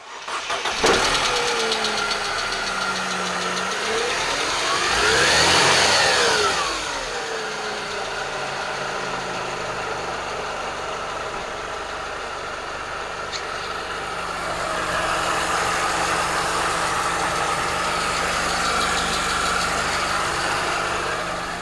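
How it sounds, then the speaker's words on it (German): A Mercedes-Benz C-Class W203 car engine runs close by, starting and revving briefly, then settling into a steady idle with a second rise in intensity later. "ich mache mal den Motor kurz aus"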